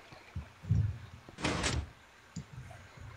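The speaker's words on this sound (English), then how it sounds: "What opened? A door." A door opens in the Minecraft video game, a short loud scraping whoosh in the middle set among a few softer thuds and clunks, with no voices.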